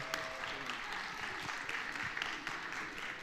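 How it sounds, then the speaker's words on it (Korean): A church young adults' group at a Sunday service applauds warmly as its outgoing officers return to their seats, soft, even clapping heard from a distance with a few murmuring voices. "네, 들어가실 때 한 번 더 뜨거운 박수로 맞아주시면 감사하겠습니다."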